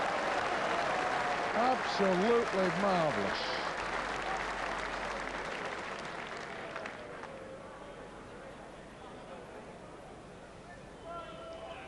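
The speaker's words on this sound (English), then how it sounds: "listen to the applause for this" Crowd applause rolls through a hall at a 1987 Waterloo semi-final match, steady and fairly loud, then slowly fades while a commentator talks over it.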